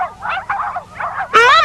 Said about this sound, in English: those awful dogs are barking again